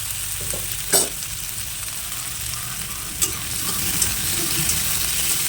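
Onion sizzles in oil in a pan with a dense, even hiss, broken by a few sharp knocks of a spoon against the cookware.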